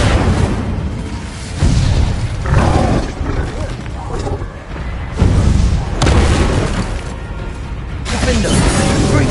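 Fiery spell blasts cast in Hogwarts Legacy PS4 gameplay erupt as roaring, booming bursts, several loud whooshing surges rising and fading over the clip with little pause between them.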